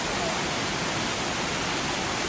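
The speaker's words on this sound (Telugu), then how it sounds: "ఇక్కడ చూడండి, this is the water fall" Waterfall in the USA viewed from above, a steady, broad roaring rush of falling water heard continuously and alone.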